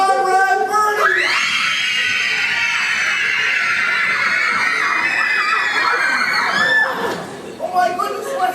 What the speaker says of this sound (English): If you girls don't stop screaming, I'll never be able to finish my speech.